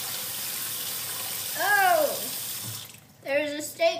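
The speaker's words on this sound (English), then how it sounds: "I'm washing the pan." A pan being washed under running tap water in a kitchen sink, a steady close hiss of flowing water, briefly joined by a rising squeaky sweep and a few short tonal chirps near the end.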